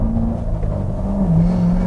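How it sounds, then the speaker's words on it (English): A 2019 Corvette Grand Sport's naturally aspirated V8 drones steadily at close range, a deep engine note holding level and then dipping slightly in pitch, with no talking over it. "the sound of this V8, man. Naturally aspirated motors just sound so phenomenal."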